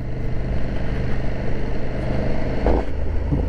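KTM 1290 Super Duke R motorcycle riding at low revs, a steady, fairly quiet engine drone with a low rumble throughout and a brief louder surge near the end, heard alone without talk.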